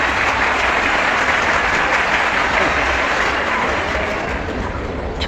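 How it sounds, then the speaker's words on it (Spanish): Audience applause at a religious debate, a dense and continuous burst of clapping from a large crowd that holds steady for about five seconds. "No, insisto, aplausos primero."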